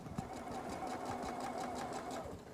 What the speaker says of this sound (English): Then I'm going to sew the other wing on the other side.